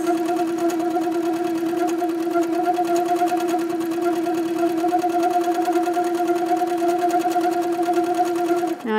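Close, steady whir of a sewing machine running without pause while quilting a background fill on a London Roads quilt block, its even motor hum and needle rhythm constant throughout.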